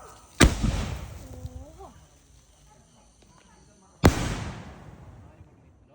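Two loud firecracker blasts at a home Diwali celebration, spaced a few seconds apart, each a sharp crack with a rumbling decay, and voices chatter faintly between them.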